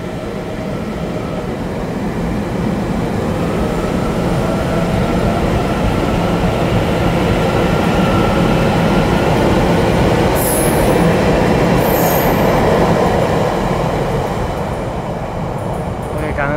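A TEMU2000 Puyuma Tze-Chiang express on an empty deadhead run to the Shulin yard rumbles past loud and close for the whole stretch, with brief high wheel squeals partway through.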